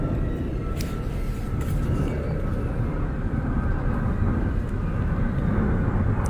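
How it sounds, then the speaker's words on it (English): An airplane passing overhead, a steady broad roar that holds at an even loudness throughout, with no other sounds over it. "Let's let this plane pass."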